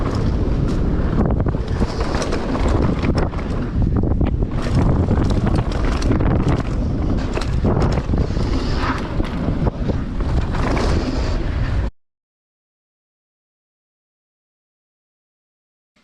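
Mountain bike ridden hard down a rough trail on tires fitted with CushCore inserts, a loud continuous rush of wind buffeting and rattling tire roar for about twelve seconds, then sudden silence.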